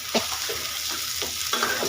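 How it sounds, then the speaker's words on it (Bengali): Meat fries in a pan with ginger and garlic, a steady sizzle broken by a few sharp scrapes of a spoon stirring against the metal, close and fairly loud. "মাংস ফ্রাই প্যানে ভেজে তারপরে মাংস আবার আদা রসুন দিয়ে দিলাম।"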